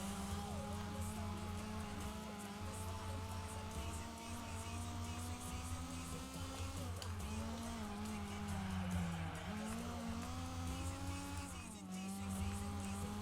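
Race cars lapping a track in Gran Turismo 4, a steady droning engine note close up that rises and falls through corners and shifts, with tire noise and other cars nearby, fairly quiet throughout.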